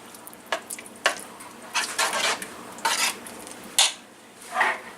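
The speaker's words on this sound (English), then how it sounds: "now I'm going to stir it together. Get that all mixed good." Lasagna ingredients stirred together in a pot, a series of close metallic scrapes and clinks of a spoon against the pot in irregular bursts, with a faint sizzle underneath.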